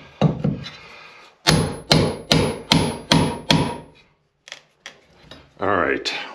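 Someone hammers on a small glued wooden model barn. Six loud, evenly spaced blows ring out close by, followed after a pause by a few lighter knocks and a final shuffling rustle.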